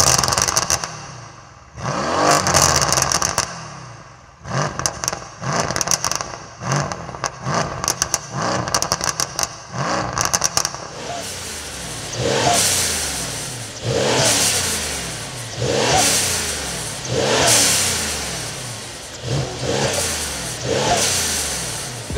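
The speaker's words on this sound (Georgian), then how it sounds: "ამ 8 ცილინდრის როხროხს უკვე ტურბოს ხმებით რო დაემატა" A 2015 Mercedes C63 AMG with a twin-turbo V8 revs loudly and close by, first in quick sharp blips and then in longer repeated swells that rise and fall in a steady rhythm.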